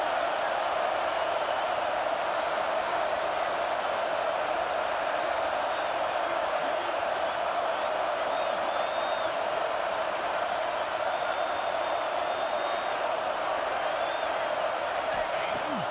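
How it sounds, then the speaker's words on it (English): A stadium crowd in a video game football match cheers for the defense in the red zone, making a constant dense roar that holds steady throughout, with occasional whistles above the wash. "The crowd getting behind this defense as they try to get a stop in the red zone."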